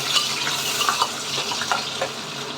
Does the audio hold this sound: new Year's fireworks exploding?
no